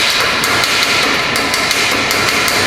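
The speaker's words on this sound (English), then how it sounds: "get you a chipping hammer, knock it off" Rapid metallic tapping of a chipping hammer knocking slag loose from a 6010 weld, a steady run of sharp hits close up with no talking.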